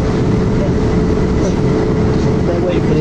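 A passenger train travelling at about 110 miles per hour, heard from inside as a loud, continuous low rumble and roar with faint rattles, steady throughout.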